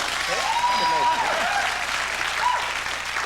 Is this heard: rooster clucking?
no